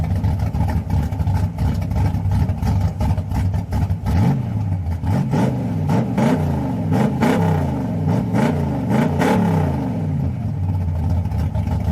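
Worn-out Chevy 305 V8 in an S10 pickup truck, with a bad header leak and a ticking noise, idles roughly and then revs repeatedly in rising and falling swells, loud and close.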